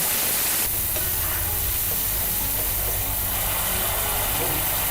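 Spice paste and cumin seeds fry in hot oil, a continuous loud hissing sizzle that starts abruptly and holds steady, with a low hum underneath.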